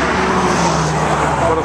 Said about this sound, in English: Lamborghini's loud over there.